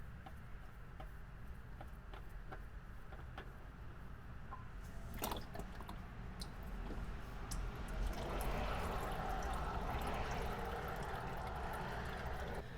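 Old engine oil from a 2013 Ford Edge SE drains into a pan as a steady liquid trickle and splatter with scattered drips, rising into a fuller pour toward the end, close and moderately quiet.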